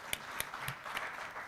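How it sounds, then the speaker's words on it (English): Conference audience applauding, a dense wash of clapping with a few sharper claps standing out, moderately loud and steady. "Please clap for yourselves."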